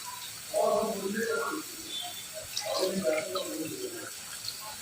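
Water poured into a pressure cooker holding mutton pieces, two splashy bursts a couple of seconds apart, fairly close over faint room hiss.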